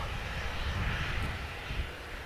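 An airliner's jet engines spool up at Manchester Airport, a steady distant roar with a broad whooshing rumble and no talk.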